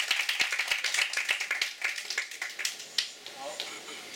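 An audience at an evening music event at Tiehua Village in Taitung claps to welcome performers, a burst of fairly close, uneven applause that thins out toward the end, with speech mixed in.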